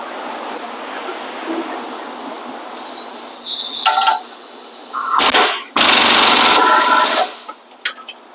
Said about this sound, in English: If you don't have an impact gun, you can do it manually too.